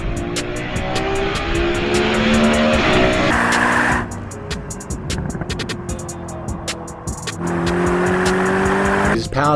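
A Mercedes SLS AMG Black Series with a naturally aspirated 622-horsepower 6.2-litre AMG V8, loud and close, revving hard through rising gear pulls with a sharp cut in the middle, then a burbling overrun before the engine climbs again.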